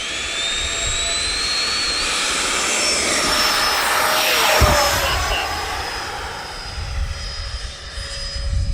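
Freewing F-15 Eagle 90mm electric ducted-fan RC jet flying overhead, a steady loud whooshing whine with a high turbine tone that swells and shifts pitch as it makes a close pass, then recedes.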